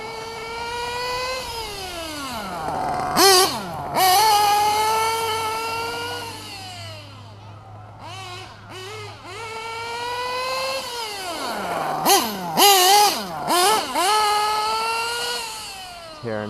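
Losi 8ight T RC truck with a Nova Rex .28 nitro engine screams at high pitch, its revs swooping down and back up in repeated bursts with sharp throttle blips, loud and close throughout.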